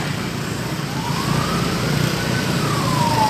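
Ambulance siren from a local health clinic at a roadside disinfectant-spraying operation in Sukabumi, a rising and falling wail sweeping over steady traffic and engine rumble, moderately distant and continuous, with no talking.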